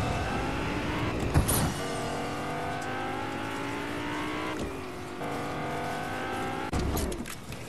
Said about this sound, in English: Iron Man's car doesn't take fuel.